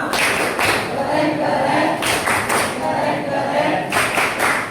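Group of people clapping a rhythmic cheer clap in unison after a classroom presentation, with repeated bursts of claps in a patterned beat and voices mixed in underneath.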